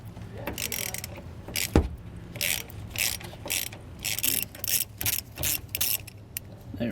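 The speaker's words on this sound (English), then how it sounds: "I had to switch over to a 1/4-inch drive wrench and socket" A 1/4-inch drive ratchet wrench and socket loosening a crossmember bolt on a 2014 Jayco Pinnacle fifth wheel trailer make rapid, close ratcheting clicks in short repeated bursts, with one sharp knock partway through.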